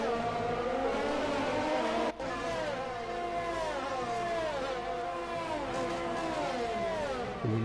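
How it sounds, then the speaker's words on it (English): Race cars in F1 2020 screaming down the pit straight, a continuous chain of high revving engine whines rising and falling in pitch as car after car sweeps past, fairly quiet overall with one brief dropout. "Looking up and down the pit straight, just seeing all the cars coming"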